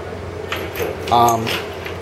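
An everyday-carry keychain with a Zac Tool handcuff key jangles softly in a few light metallic clinks over steady background hiss.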